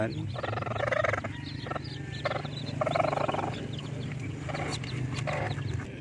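Newly hatched Rhode Island Red chicks peep in a continuous busy chorus, close by over a low steady background hum, with no one speaking.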